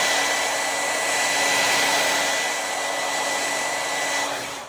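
A heat gun or hair dryer blows hot air onto Oracal 651 vinyl on a hat, a steady, loud broadband whoosh that holds evenly for several seconds and eases off slightly at the end, with no talking.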